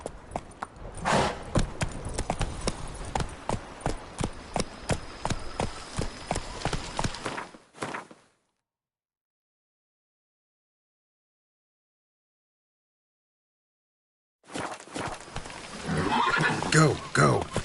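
Roach, the horse in The Witcher 3: Wild Hunt next-gen on PS5, gallops with rapid, driving hoofbeats and whinnies, then a stretch of complete silence before the galloping resumes.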